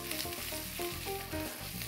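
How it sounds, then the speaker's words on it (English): Quinoa sizzling after being dumped into a pan of hot oil, a steady close crackling fry with soft rattling stir sounds as the pan is shaken, no voices. "You take the quinoa and you just dump it in. You'll hear a little sizzle and you give the pan a little shake."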